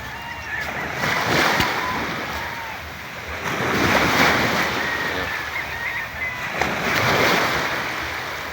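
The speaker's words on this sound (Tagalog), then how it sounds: "Nandito tayo sa dagat" Ocean waves roll in at the sea in Lemery, Batangas, swelling and receding in three broad surges under gusty wind noise on the microphone, with no clear talk over them.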